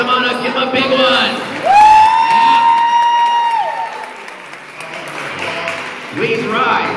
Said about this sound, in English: One more big round of applause for our athletes